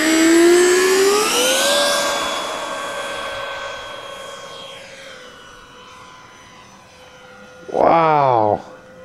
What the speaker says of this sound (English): test flight number one of the sport jet